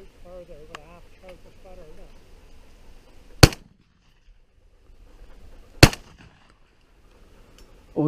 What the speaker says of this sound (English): Shot, Matt.